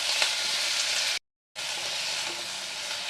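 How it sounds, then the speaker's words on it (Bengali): Bottle gourd shoots sauté in a pan over low to medium heat, making an even, close hissing sizzle that cuts out for a brief silent moment before resuming. "একটু সাঁতলে নেব।"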